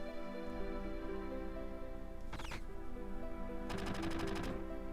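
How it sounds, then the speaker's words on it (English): Two short bursts of rapid gunfire in Final Fantasy VII ring out over a steady game music bed, the second burst a longer run of evenly spaced shots. "Was that gunfire?"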